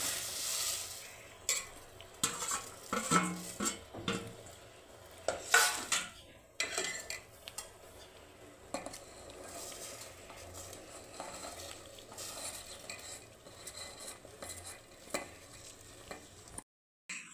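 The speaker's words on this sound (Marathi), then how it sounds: "साबुदाणा टाकल्यानंतर व्यवस्थित असं मिक्स करून घ्यायचं आहे" A spoon stirs sago into boiling salted water in a metal pot, giving irregular scraping clinks and taps against the pot over a soft bubbling hiss, close and fairly quiet, with no voices.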